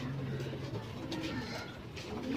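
Pigeons kept in a loft coo steadily and softly, a low repeated rolling call that carries on without a break, close by and fairly quiet, with no speech over it.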